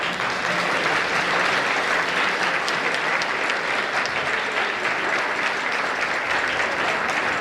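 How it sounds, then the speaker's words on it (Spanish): An audience applauds two women from Pelechosa at an Asturian Christmas folk gathering, steady dense clapping filling the room without pause, fairly loud. "para las que pido el primer aplauso."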